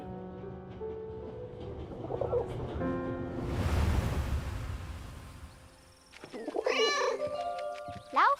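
A cat in the video game 11-11: Memories Retold meows and yowls near the end, after a stretch of swelling ambient music and a wash of surf-like noise; no one speaks.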